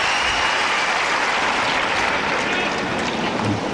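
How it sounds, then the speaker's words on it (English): Crowd at a 2005 US Open tennis match applauding steadily in a dense, continuous wash of clapping from a large stadium audience. "this crowd here at Ash appreciating the fight that Cho has given Henin-Hardenne here in the second set"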